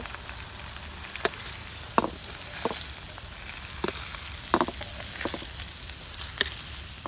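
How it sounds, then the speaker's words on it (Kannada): Kingfish pieces fry in oil for biryani, giving a soft, continuous sizzle with scattered sharp pops and crackles spread through the frying. "ಮೀನು ಚೆನ್ನಾಗಿ ಫ್ರೈ ಆಗಿದೆ, ತೆಗೆದು ಬಿಡುವ"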